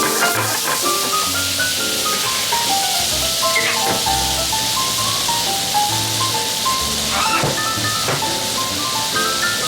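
Wine bubbles and hisses steadily as it boils down in a pan over a high flame, with soft pops and a low rumble of heat, close by and continuous.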